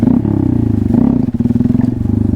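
A Honda Grom motorcycle engine idles with its idle set low, giving a steady, close, throbbing low putter with a slightly uneven pulse.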